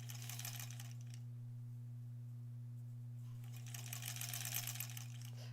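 A sewing machine stitching small quilt block pieces at a quarter-inch seam, running in two brisk bursts with a quiet pause between, close by over a constant low electrical hum, with no speech.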